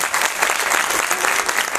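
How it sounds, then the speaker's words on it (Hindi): Thunderous applause from a large audience at the Aadi Vigyan Mahotsav in Uttarakhand, a dense, steady wash of clapping that stays loud and even throughout, with no voices over it. "जोरदार तालियां"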